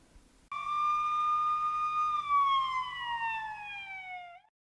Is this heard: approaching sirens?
yes